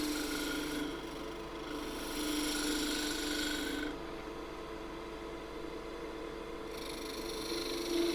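A woodturning gouge on a lathe, rotated slightly to lift a shaving, makes a steady rasping scrape against the spinning wood, close and fairly quiet, with the pitch and intensity shifting as the cut changes, and no talk.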